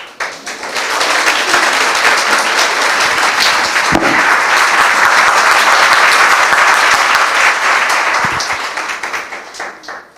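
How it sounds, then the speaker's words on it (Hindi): A church congregation at a Hindi-language worship service claps loudly and steadily, a dense, sustained round of applause filling the room for about ten seconds before tapering off at the end. "ये यीशु के लिए ताली हो जाएंगे।"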